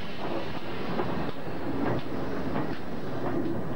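Steam train running through the tree-lined Dart valley on the South Devon Railway near Buckfastleigh, a steady rumble with rhythmic wheel clatter on the rails, moderately distant and unbroken, no voices.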